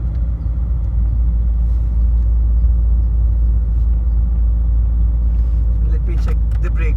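A 2002 Mercedes-Benz C200 CDI W203 diesel sedan drives along with a steady, close engine and road rumble throughout, and a few brief clicks near the end.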